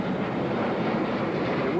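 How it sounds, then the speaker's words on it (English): Airplanes pass overhead at a 1987 Cardinals vs Mets baseball game, a loud continuous roar of jet engines washing over the stadium with wind-like rumble throughout. "these planes overhead is like you're on a runway."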